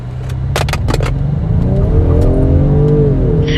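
A 2024 Ford Mustang with a turbocharged four-cylinder and 10-speed transmission accelerates hard from a standstill, its engine note climbing steadily and loudly through the gears with sharp clicks early on.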